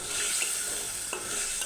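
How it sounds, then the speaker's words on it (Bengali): Potatoes being sautéed in a spiced beef masala with sour yogurt, a steady bright sizzle with occasional stirring scrapes, close and continuous with no talking. "আলুটা আগে কষিয়ে নেব।"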